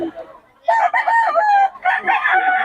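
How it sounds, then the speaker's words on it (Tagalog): A gamecock rooster crows loudly nearby at a market, a long strained call followed by another crow, with faint clucking before it. "Solid mga manok nito ni Boss Batang."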